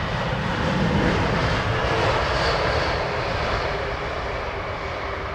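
Lufthansa Airbus A321 in retro livery making a fly-past at Heathrow, its engine roar steady and fairly loud across the whole clip, swelling slightly near the middle before easing off.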